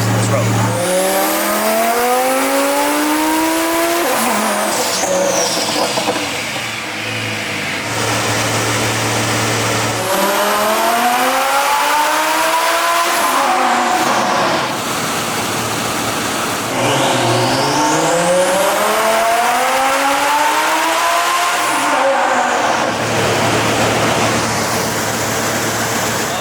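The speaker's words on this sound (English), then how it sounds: "Time to see what Danny P's car puts on the dyno." A car's engine runs hard on a dyno at a race event, rising in pitch through three long pulls and dropping back to idle between them, loud and close, with people talking over it.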